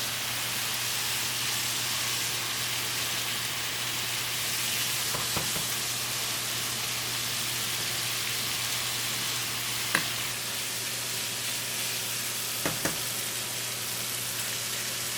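Taco rice mixture fries with a steady broadband sizzle in a pan, punctuated by a few brief scrapes and knocks of stirring, close and continuous throughout.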